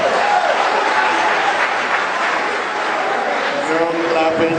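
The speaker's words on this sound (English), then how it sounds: "No clapping, please, ladies and gentlemen." Steady applause from a crowd at a 2019 Imo State governorship election debate fills the whole stretch, dense and even, with a voice speaking faintly underneath toward the end.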